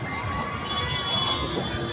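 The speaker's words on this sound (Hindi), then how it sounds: "सो भाई देखो हर टाइम भीड़ बनी रहती है यहाँ पे" Busy crowd murmur at the entrance gate of a city park, a steady wash of many voices with children shouting and chatter blending together throughout.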